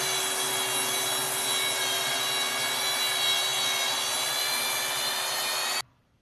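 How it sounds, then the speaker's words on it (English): A track saw rips through a glued-up, sanded and flattened wooden tabletop made of reclaimed lumber, a loud, steady, high whining cut held for nearly six seconds before the blade stops abruptly. "make my inaugural cut on a table that I've glued together and sanded and flattened"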